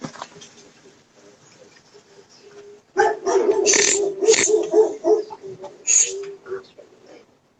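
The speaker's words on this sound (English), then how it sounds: "Why are those dogs barking?" Dogs barking at someone coming into the house, faint sounds at first, then a loud burst of repeated close barks and yelps that keeps going in uneven bursts before fading out.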